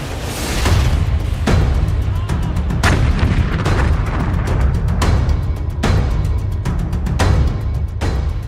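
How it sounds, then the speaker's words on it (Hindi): Missile and artillery fire exchanged between Israel and Hezbollah on the Lebanon front: a loud, continuous barrage of sharp blasts and booms recurring every second or so, with no voices. "इजराइल और हिजबुल्लाह के बीच मिसाइल वार"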